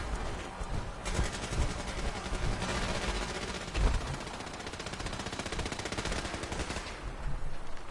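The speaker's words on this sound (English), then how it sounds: "What are they shooting the vertibird for?" Sustained rapid machine-gun fire aimed at a vertibird in a video game, dense continuous bursts of shots with a few louder cracks, steady and close throughout.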